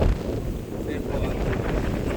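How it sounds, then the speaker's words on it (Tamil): Strong wind at the Kurusumalai hilltop viewpoint near Kanyakumari roars and buffets the microphone in a continuous, close, rumbling gust with no break. "காற்று பயங்கரமாக இருக்குது"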